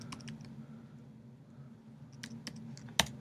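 Keystrokes on a computer keyboard in a text editor, a few scattered light clicks with a sharper press near the end, quiet and close with a steady low hum underneath.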